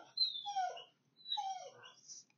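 A dog whimpers indoors, wanting to go outside and play, in two high, thin whining cries with a short pause between them, clear against a quiet background.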